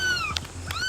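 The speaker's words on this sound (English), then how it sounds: "those are the frantic cries of a 5-week-old kitten, also trapped in a drain pipe" A 5-week-old kitten trapped in a drain pipe gives two frantic, high-pitched meows close by, each a rising and falling cry with a short gap between them.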